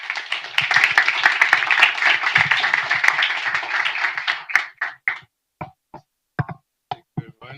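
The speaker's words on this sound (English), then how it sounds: "Round of applause, please." An audience at an entrepreneurs' pitch evening in Porto breaks into dense applause that trails off into a few scattered, isolated claps.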